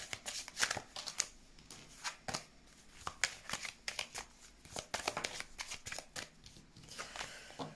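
Tarot cards being shuffled for a reading, a close run of quick riffling and slapping bursts that repeat irregularly throughout, with no voices.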